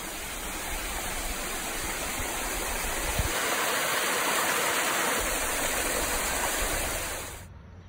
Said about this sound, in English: We found the big waterfall.